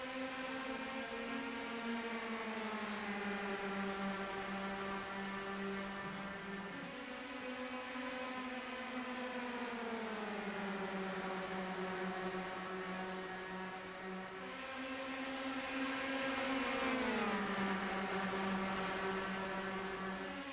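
Race car engines drone in a racing video game on the Kentucky oval, a steady layered whine whose pitch sags and climbs as the pack circulates, continuous and without voices.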